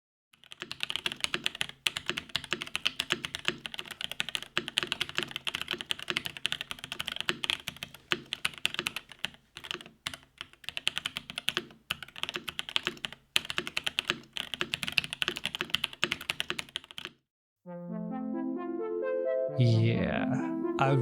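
Rapid keystrokes on a custom mechanical keyboard with Alpaca switches clatter steadily for a long stretch, close and crisp with some rattle, then stop as music begins.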